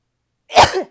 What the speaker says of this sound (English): Hold on, I think I'm going to sneeze again.